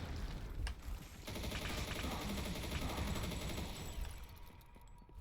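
Rapid bursts of gunfire and bullet impacts from the Quake-style GZDoom shooter Disdain crackle in a dense, continuous volley, fairly quiet overall and fading out near the end.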